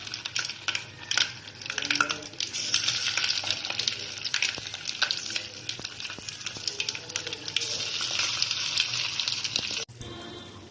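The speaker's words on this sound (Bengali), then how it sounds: "আরও কিছু চিকেন পিস পাকোড়া ভাজার জন্য এই কড়ার মধ্যে দিয়ে দিলাম" Chicken pakoras sizzle and bubble steadily in hot oil in a wok, a continuous close crackling frying sound with occasional stirring, cutting off briefly near the end.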